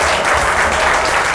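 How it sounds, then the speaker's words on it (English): A crowd at a show finale gives a dense, sustained burst of applause that stays loud and even throughout this short stretch, with no speech heard. "Yes, a round of applause."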